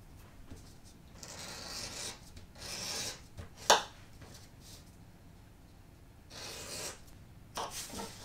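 Quiet leather work: a tool rasps and scrapes along the edge of a leather strip in several separate bursts, with one short sharp click partway through and no speech.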